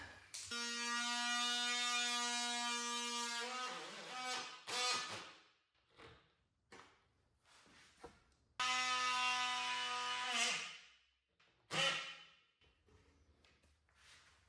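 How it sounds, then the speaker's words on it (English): A power tool slots holes in a wooden frame for a dowel, in two strong whining bursts, each with a steady tone that drops as it cuts, followed by scraping and knocking. "We're going to go ahead and slot our holes at the top, right here and here, for our dowel."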